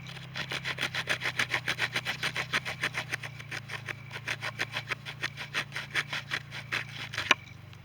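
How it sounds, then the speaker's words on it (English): A Tracker T2 knife's saw back notches wood in quick, even back-and-forth rasping strokes, close and rhythmic, ending with a sharp click. "We'll start off with the saw back, the notching"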